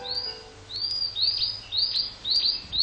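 A blue-and-white flycatcher sings in a summer forest by a river valley, repeating clear, high whistled phrases in a steady series, fairly close, with no other sounds competing.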